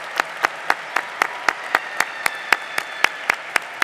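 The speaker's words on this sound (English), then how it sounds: "Graduates, let's give your parents a round of applause right now." At a high school senior graduation ceremony, an audience applauds the parents, with one set of hands clapping close by in a quick, even rhythm above softer crowd clapping.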